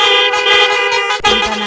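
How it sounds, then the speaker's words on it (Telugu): A police motorbike horn honks loudly and close, in a series of short repeated blasts with a brief pause before a final longer toot. "సారు హారన్ కొట్టుకుంటా బైక్ నడిపిండు."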